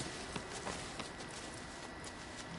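Horse hooves clip-clop steadily across the ground in the video game Shadow of the Colossus, a rhythmic trot of soft, evenly spaced thuds heard alone at moderate volume.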